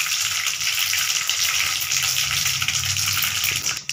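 Mustard seeds splutter in hot oil with cinnamon and cloves for a chicken gravy, a dense, loud, continuous hiss close by with a brief clatter near the end.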